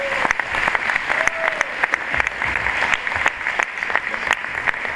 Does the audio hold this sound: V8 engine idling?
no